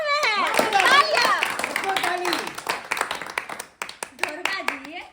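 Hands clap in scattered applause at a school Independence Day event as a village headman arrives as guest, mixed with lively overlapping voices and someone speaking.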